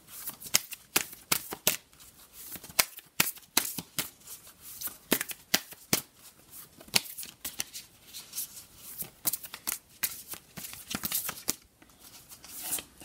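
Oracle cards being shuffled by hand in a steady run of quick riffling and flicking bursts, close and fairly quiet, with no talking.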